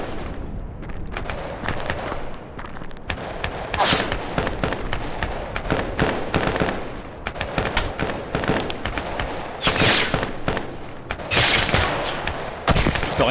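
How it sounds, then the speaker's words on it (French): Rapid gunfire in the VR shooter Tactical Assault VR during a two-player co-op match, dense overlapping bursts and single shots cracking nonstop, loud and close, with louder volleys at intervals. "Là ils sont en train de me tirer dessus."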